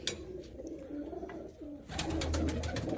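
Pigeons cooing in a loft during cleaning, with low rolling coos that swell louder in the latter half amid rustling and other bird calls nearby.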